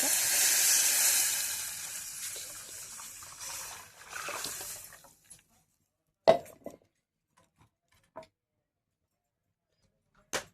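Hot oil tempering for peanut chutney sizzles with a bright hiss for about five seconds, then dies away to near silence broken by a few sharp knocks and clinks.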